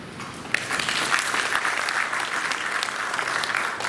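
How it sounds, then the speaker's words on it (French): Sustained applause from a seated audience at a surgeons' congress in Lomé, dense and even clapping that continues throughout. "que je vous prie d'applaudir"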